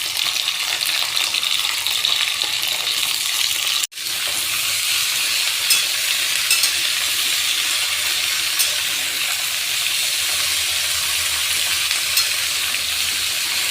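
Chopped mixed vegetables for labra frying in hot oil after the tempering, a loud continuous close sizzle broken by one sharp knock or stir partway through, with no talk.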